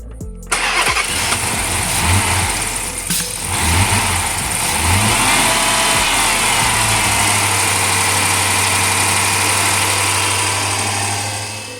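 Dodge Magnum engine with factory exhaust manifolds catches and starts with a burst of revs, then settles into a steady, loud, close idle with audible ticking, no voices over it.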